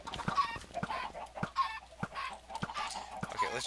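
Chickens on a Minecraft chicken farm cluck in a steady, busy chatter, with short clucks overlapping again and again and no talking.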